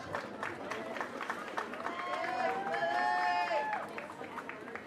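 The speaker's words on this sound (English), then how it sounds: "Give a big round of applause to these seniors and their parents" A stadium crowd at a high school football game between Atchison and Wyandotte applauds and cheers for seniors and their parents, a steady, broad roar of many people with a bright whistle-like tone rising briefly partway through.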